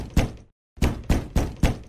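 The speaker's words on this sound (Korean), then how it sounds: "밖에서 문을 두드리는 소리가 났다" Knocking on a wooden door on a cold evening in a mountain village, a sharp single rap followed after a brief pause by four firm, evenly spaced knocks, close and loud.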